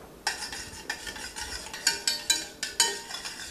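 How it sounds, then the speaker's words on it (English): A spoon stirs a vinegar-based hot sauce into a rib glaze with a string of close, sharp clinks and scrapes at an uneven, steady pace. "You just mix it to taste. Mix it up, see how you like it."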